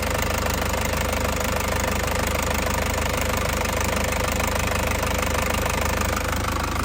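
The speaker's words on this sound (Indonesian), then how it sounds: "Mesinnya juga masih sangat anteng banget ya, anteng banget, tidak pincang ya" A 2003 Isuzu Panther Touring diesel engine idles steadily and evenly, a loud continuous rhythmic clatter with no misfire, close and alone.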